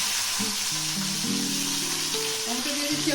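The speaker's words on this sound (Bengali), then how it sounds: "টমেটো দিয়ে দিচ্ছি" Tomatoes frying in a pan with whole cardamom and other spices, a loud continuous hiss of sizzling oil close up, with faint tonal hums running underneath and no talking.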